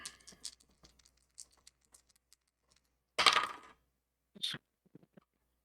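Dice rolling on a table during a tabletop game session, a scatter of small clicks and taps followed by two louder rattling clatters, with quiet gaps between.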